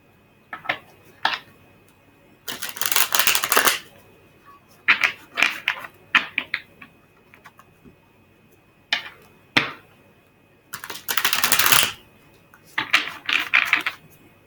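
Chakra Tarot cards are shuffled and drawn, three laid out, giving soft papery riffles and sharp snapping clicks in irregular bursts, close and fairly quiet, with no talking.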